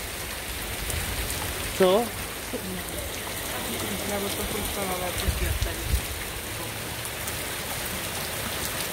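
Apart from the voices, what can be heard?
heavy rain falling during a storm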